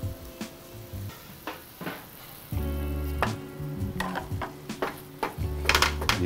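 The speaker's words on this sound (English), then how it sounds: "I'm gonna go ahead and add another scoop of liquid." Mushroom risotto sizzling in a pan as a scoop of liquid goes in, with a steady frying hiss, intermittent clinks and scrapes of a spoon stirring, and the sizzle swelling louder partway through.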